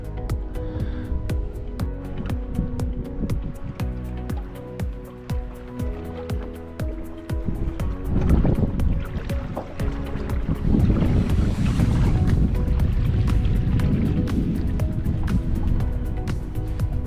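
A small fishing boat rides over choppy water with big waves, out running jug lines. A steady loud rumble of engine and hull slap is joined by heavier wind and water noise in the second half, with no talking.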